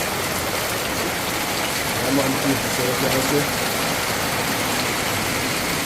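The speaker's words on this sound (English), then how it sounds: "Yeah man people, rain a fall man." Steady rain falls outdoors as a constant, dense hiss that holds evenly throughout, with someone talking over it.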